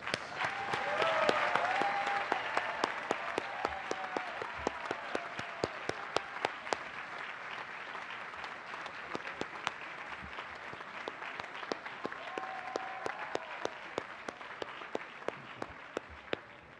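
A large audience at the 2014 JTS commencement ceremony applauds alumni steadily for a long stretch, individual claps popping out of a slightly distant wash of hands.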